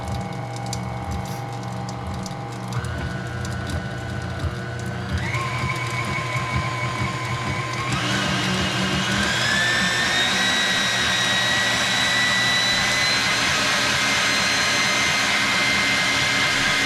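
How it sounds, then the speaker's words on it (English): A KitchenAid stand mixer running after gear replacement, a steady motor whine that steps up in pitch several times as speed increases, growing louder and higher-pitched, with no talking. "let's check the speed, check the sound"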